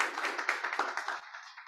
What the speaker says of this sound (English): So another big round of applause to Kelvin and Motorbooks.